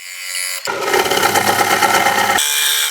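A woodturning gouge cuts a closed form bowl on a lathe, riding the bevel with the handle held low. A steady, loud, close shearing whir runs for about two seconds, with quieter lathe hum before and after.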